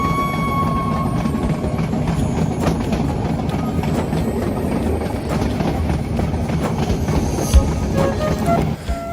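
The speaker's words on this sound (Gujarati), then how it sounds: "સતાધારથી છેક તાલાળા ગીર સુધી આ ટ્રેન જંગલમાં સફર કરે છે." A passenger train running through the Gir forest on the Satadhar to Talala Gir line, its steady rumble and wheel clatter continuous and close throughout, with a brief sharper knock near the end.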